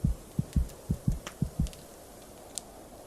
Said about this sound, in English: Is so heavy you can hear your own heartbeat like a drum